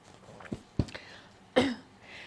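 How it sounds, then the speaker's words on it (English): A person coughs a few times in short, separate bursts, near and fairly soft, with quiet room tone between them and no talking. "I get this cough."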